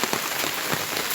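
Rain falls steadily in Jaffna, a dense close hiss of drops on surfaces that holds even and unbroken throughout the short stretch.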